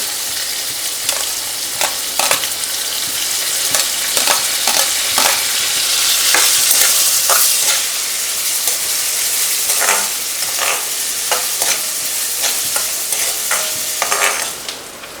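Onions sizzle loudly as they fry in a pan of oil with crackled cumin and asafoetida, the steady hiss broken by repeated scraping and clinking of a stirring spoon.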